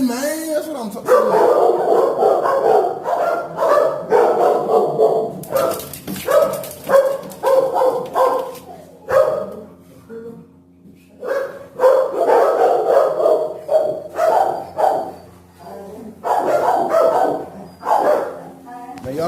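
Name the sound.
dogs barking at an animal shelter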